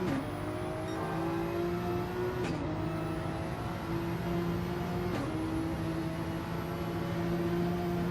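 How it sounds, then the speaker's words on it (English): Race cars on the Nürburgring Nordschleife give a loud, steady engine drone, with two brief breaks where the throttle lifts and the turbo dump valve flutters before the engine note resumes. "Hear the dump valve fluttering when they let off the throttle"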